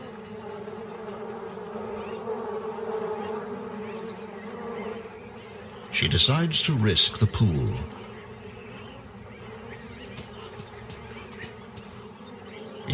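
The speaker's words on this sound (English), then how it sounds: "She tries a pit, but finds it full of bees." Bees swarm and buzz loudly around a water pit in hot, dry wild country, a dense droning burst rising for a couple of seconds under a calm narrating voice.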